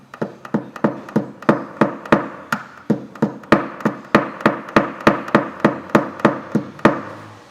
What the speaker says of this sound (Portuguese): Posso usar o martelo